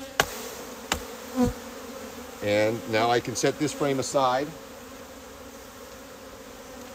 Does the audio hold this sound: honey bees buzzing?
yes